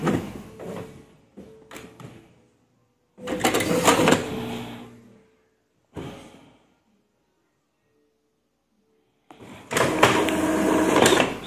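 An Epson L3210 inkjet printer with a print-out problem prints a test page in several bursts of mechanical whirring and clicking, its carriage shuttling back and forth, with quiet pauses between passes.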